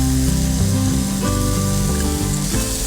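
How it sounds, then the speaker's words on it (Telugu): Moong dal tipped into a ridge gourd curry frying in a pan, giving a loud, steady sizzle with soft stirring clatter throughout, no speech. "సో ఇప్పుడు మనం పెసరపప్పు వేస్తున్నాము."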